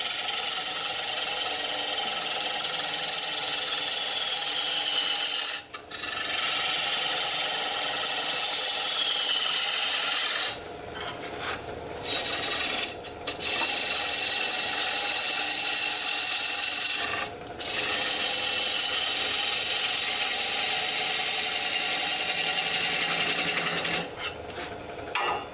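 A wood lathe runs steadily in a workshop, a loud continuous hum under the hiss of a tool rubbing and cutting the spinning wood, broken by a few brief pauses and changes in the cut.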